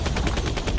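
Rapid automatic gunfire in the Shadow Strike video game, a dense loud burst of evenly spaced shots hammering without pause for under a second.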